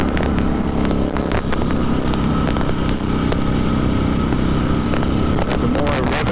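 1970 Harley-Davidson XLCH Sportster engine revving while riding, a loud continuous throaty drone with rising RPM, close and dominant, with someone talking over it.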